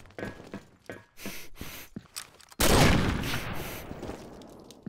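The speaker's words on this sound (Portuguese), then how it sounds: "eu dei dois tiros em cima do cara" Gunfire in an online match bursts out mid-clip, a sudden loud blast that rings and decays over a couple of seconds, preceded by quieter game sounds and clicks.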